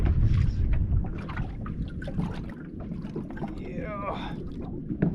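A small fishing boat off Jeffreys Bay is dragged across the water by a big hooked kob, with constant hull slapping, rushing water and wind buffeting the microphone, while voices talk and exclaim over it.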